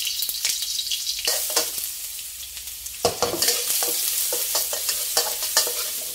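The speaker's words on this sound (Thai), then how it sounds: "ใส่กระเทียมลงไปเคี่ยวให้หอมค่ะ" Chopped garlic fries in pork lard over medium-low heat, a steady close sizzling hiss broken by repeated scraping and clattering strokes of a spatula stirring the pan, with no voices.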